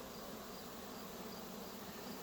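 A dense, steady hum of many honeybees fills the air on a warm autumn day, an unbroken, even buzz without pauses that comes from a swarm close at hand.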